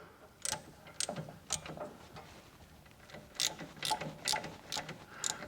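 Ratchet socket wrench with an extension loosening a 13/16 bolt on a zero-turn mower's hydro drive, giving several quiet, close clicking ratchet bursts spaced out irregularly, with pauses between strokes.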